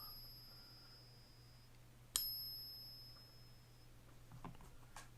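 A real silver coin is struck on a Pocket Pinger and gives one sharp ping that rings clearly and decays slowly over a quiet background, followed by a few faint handling clicks.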